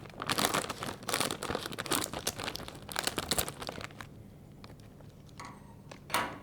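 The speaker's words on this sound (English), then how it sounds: "I've got some scissors here I'm going to use to open them up." Sealed bag of Hot and Spicy Lay's chips being cut open with scissors, close crinkling and crackling of the foil packet in dense bursts, quieter toward the end.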